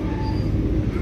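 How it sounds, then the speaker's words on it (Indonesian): The Mutiara Timur train rolls into Bandung station, a dense continuous rumble of wheels and carriages close by with a faint high squeal riding on top. "Mutiara Timur masuk stasiun Bandung."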